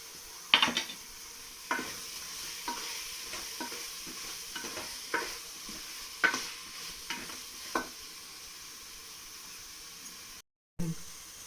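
Shallots, ginger and garlic being sautéed in a pan for chicken biryani: a steady low sizzle with a series of distinct stirring scrapes roughly once a second, fairly quiet and close, with no talking.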